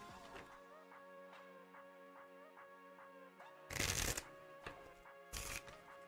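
A deck of playing cards is riffle-shuffled on a table in two separate close, crisp bursts, a longer one followed by a shorter one, over a steady background hum.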